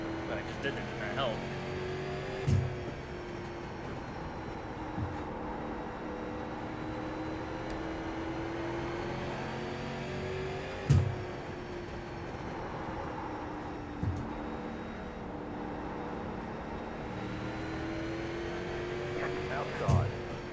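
Race cars in a sim racing game hum and whine through gear changes, with engine pitch rising and falling in repeated cycles and brief thumps, while a driver talks over them.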